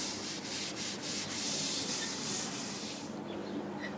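Steady abrasive sanding on a wooden cutting board, a continuous scratchy rubbing with rhythmic strokes, close and fairly loud, ending with a lighter hiss.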